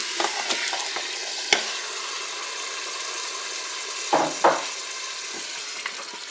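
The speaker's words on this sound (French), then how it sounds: "maintenant je vais ajouter les tomates pelées" Peeled tomatoes added to a hot pot in a Cookeo pressure cooker while making filet mignon: a dense, loud sizzle with scraping stirs and a few sharp clinks and knocks of a utensil against the pot.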